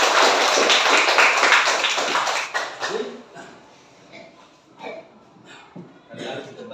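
Schoolchildren in an Indonesian classroom clap their hands together, a loud dense burst of many hands lasting about three seconds before fading into scattered quieter taps and talking voices.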